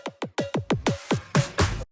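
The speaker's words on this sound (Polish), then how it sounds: "bardzo często używany efekt w slap house'ach, czyli spitchowany kick" Pitched kick drum effect for a slap house track, heard as a rapid run of about nine booming hits with falling pitch, the last few heavier and longer, loud and dry with no voices.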